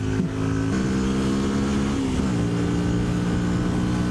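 A Yamaha WR125R motorcycle engine drones steadily while overtaking uphill, a loud close tonal hum that holds its pitch, then shifts down around midway and carries on steadily, with wind rushing underneath.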